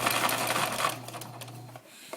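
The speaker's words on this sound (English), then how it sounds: "So I've gone almost all the way around with the sewing." A sewing machine stitches two layers of a hedgehog snuggle bag together around the edge, a brief close whirring run that stops near the end.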